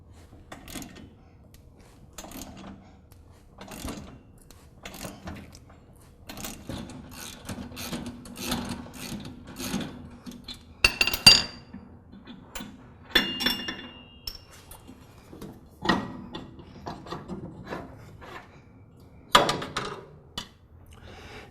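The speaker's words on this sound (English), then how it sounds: "I'm going to use a pipe wrench around the spindle on the pulley, and then a ratchet wrench from beneath to remove the bolt." Ratchet wrench clicking while removing the pulley bolt on a Troy-Bilt Pony lawn tractor, with soft intermittent ratcheting and metallic clinks in short bursts, close and fairly quiet, no talking.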